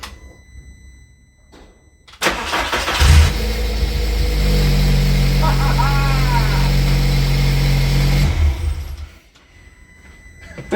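A Volkswagen Rabbit with a swapped 1.4 turbo engine cranks and fires up, then runs at a loud, steady idle with a brief rev for about six seconds before shutting off, with quiet surroundings before and after.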